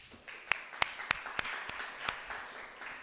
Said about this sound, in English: give applause